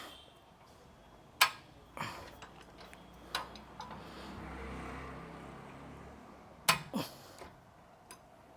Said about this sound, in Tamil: ஒவ்வொரு வாட்டியும் அந்த சவுண்டு கேட்கணும் டிக் டிக் டிக்னு ஒரு சவுண்ட் இருக்குது